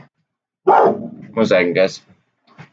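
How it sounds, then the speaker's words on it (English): A dog barks close by in a home setting while someone talks through a stock market livestream, the barks mixed in with his speech. "Sorry about the dog."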